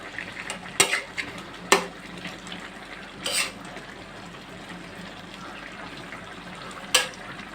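Fish cooking in a covered pan gives a low steady frying hiss, broken by four sharp metallic clinks of a utensil against the pan, with no talking.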